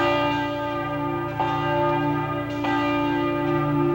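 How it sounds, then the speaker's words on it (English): Church bells peal loudly at a Thanksgiving ceremony in Dallas, rich ringing tones with fresh strikes landing about every second and a half over a sustained hum, with no voices. "the pealing bells rang out that spirit for all of Dallas to hear."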